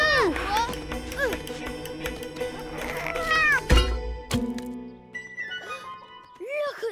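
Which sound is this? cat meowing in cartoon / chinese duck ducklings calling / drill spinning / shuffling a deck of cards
cat meowing in cartoon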